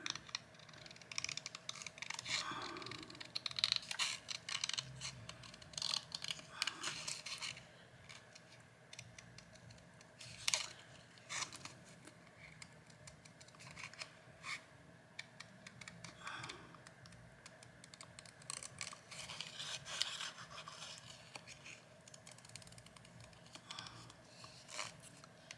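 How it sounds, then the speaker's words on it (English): Scissors fussy cutting around shapes on paper for a black and white journal, a quiet, irregular series of small snips and paper rustles, close up with no talking. "Let me fussy cut around this. I'm going to actually just trim around some of this."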